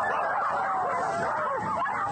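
Several children imitate dogs or wolves, their overlapping howls and whines forming a continuous, loud chorus of wavering cries with no pauses.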